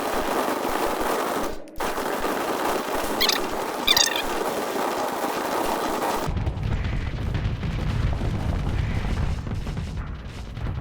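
A space station in Starsector takes sustained fire, with rapid machine-gun-like weapon bursts followed by a deep, rumbling explosion, all loud and continuous.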